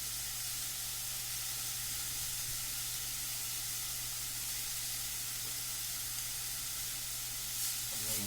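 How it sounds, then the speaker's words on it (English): Garlic and ginger sizzle steadily in hot oil in a pan for teriyaki chicken, a continuous bright frying hiss close by with a faint low hum beneath and no talking. "We're going to let all this roast up real nice and well."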